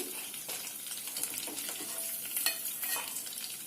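Chicken pieces fry in a pan for ginger chicken curry, a soft, steady sizzle with scraping stirs and light clatter, fairly faint and close.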